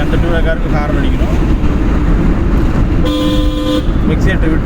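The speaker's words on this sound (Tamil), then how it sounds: "மறுபடியும் அந்த 2 காருக்கு ஹார்ன் அடிக்கணும்." Car horn honks in a sustained blast during a driving lesson, sounding against steady road noise and engine hum, with talk from instructor and learner around it.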